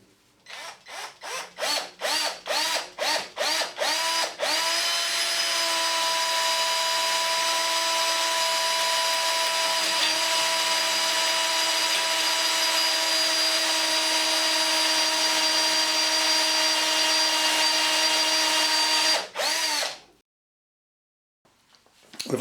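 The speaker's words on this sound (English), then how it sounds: "we'll be able to drill out the grub screw" A drill bit coated in cutting paste bores out a grub screw on a stainless steel shaft, starting with several short bursts of whirring before settling into a steady, loud, sustained grinding drone that cuts off abruptly near the end.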